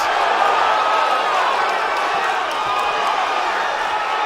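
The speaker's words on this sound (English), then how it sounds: "Listen to this crowd." Boxing crowd roaring and cheering steadily at a pro fight between Russia's Bakhram Murtazaliev and Australia's Tim Tszyu, a dense, loud wash of voices with no pauses and a commentator talking over it.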